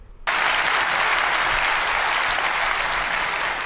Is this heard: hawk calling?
no